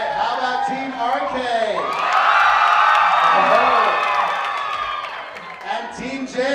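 Audience at a Chippendales opening-night show in Las Vegas cheers, whoops and shouts loudly as a crowd, swelling to a sustained roar midway and then tapering, with the noise standing alone.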